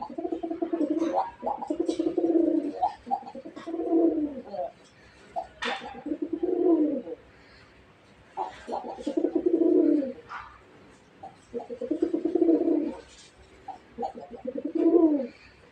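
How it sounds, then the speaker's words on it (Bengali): Caged Lalgola pigeons, a pair kept side by side, give repeated soft, throaty coos in rhythmic bursts separated by brief pauses, close and moderately loud. "দুইটা কবুতরের ডাক দেখলেন"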